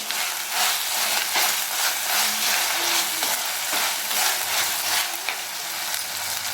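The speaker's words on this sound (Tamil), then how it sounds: "நல்லா வதங்குவோம்" Steady sizzling of tomatoes sautéing in a hot pan for chicken kulambu, a continuous crackling hiss with occasional faint stirring scrapes, no voices.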